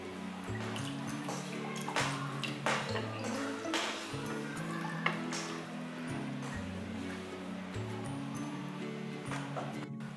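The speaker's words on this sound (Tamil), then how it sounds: "இங்கே பாருங்கள், இந்த மாதிரி கொதிக்குது." Lemon rasam bubbles in a pot on the stove, giving soft, continuous simmering and popping with a low hum beneath, heard close and fairly quiet.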